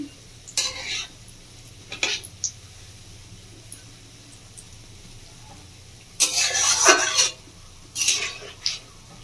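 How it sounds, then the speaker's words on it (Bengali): Egg chops fry in oil over a medium flame, with bursts of stirring and scraping in a pan breaking through a low background hum, loudest in a long stretch near the end. "খুব বেশি হাই ফ্লেমে চপটা ভাজবো না, মিডিয়াম ফ্লেমে ভাজবো"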